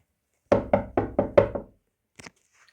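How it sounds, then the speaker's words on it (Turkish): Someone knocks on a door six times in quick succession: sharp, close, hollow wooden raps. After a short pause comes a brief faint rustle, with no talking. "A kapı çaldı."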